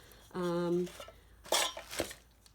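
Camping pots and pans knock and clink a few times while being packed for a winter hot tent trip, close and fairly quiet, alongside a brief voice.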